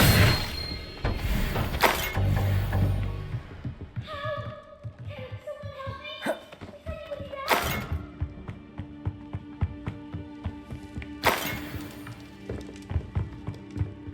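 Bombarda blasting spell impacts in Hogwarts Legacy, with several loud, sharp bursts spread through the fight over tonal music and game effects.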